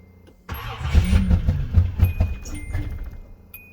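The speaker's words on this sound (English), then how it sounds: "if your car starts up and sounds like an Apache" A Nissan 300ZX Z31 turbo engine cranks and catches, then runs rough and uneven at a loud, close idle with a lumpy, stumbling rhythm, no talk over it.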